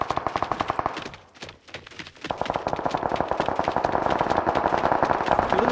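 Rapid automatic gunfire in the mobile shooter BGMI: loud, dense bursts of shots in a steady rhythm that pause briefly before resuming nonstop, close and dominant, with no voices over it.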